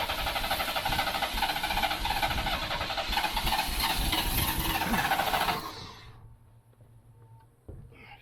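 A long-idle Typhoon engine, not run in over ten years, cranks and fires with a loud, rough, steady roar for several seconds, then abruptly dies away, leaving faint low rumbling and a brief knock near the end.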